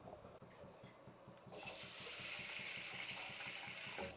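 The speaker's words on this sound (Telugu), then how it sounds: "ఇప్పుడు దీన్ని బాగా 2-3 సార్లు కడిగేసి నానబెట్టుకుందామండి." Rice is washed by hand in water for a mung bean and rice dosa batter, with soft sloshing and trickling that turns into a steady, louder wash of running water from about halfway through, close by and with no talk.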